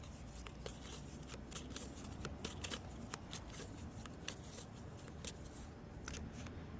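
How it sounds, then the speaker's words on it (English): Oracle directional cards being shuffled by hand, a steady stream of soft papery rustles and quick card slaps with scattered sharper flicks, close and continuous with no talking. "I'm gonna shake up, stir up, shuffle these directional cards"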